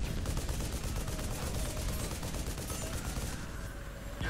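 Sustained rapid gunfire in the video game Global Ops: Commando Libya, dense overlapping shots like a firefight, continuous at moderate loudness for several seconds before easing slightly at the end.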